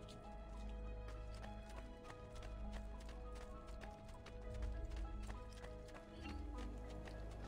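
Horse hooves clip-clop in a steady rhythm through Assassin's Creed II gameplay set in Tuscany, heard near and fairly loud over a constant game-music bed.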